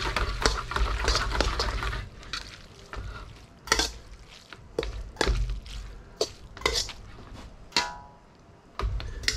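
Noodles are stirred and tossed in scallion oil in a pan, giving repeated close scraping and clattering bursts over a soft background sizzle, uneven in rhythm with brief pauses.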